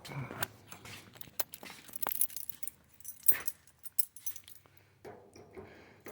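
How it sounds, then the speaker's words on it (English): Keys jangle in short metallic bursts near a Chevy Monte Carlo hot rod before its trunk is opened, with brief pauses between shakes and no talk over them. "grab the keys, I'll get in the trunk."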